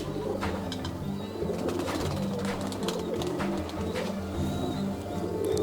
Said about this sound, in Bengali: এটা বেস্ট কোয়ালিটির কামাকা পায়রা, গোল্ডেন কামাকা যার বলে।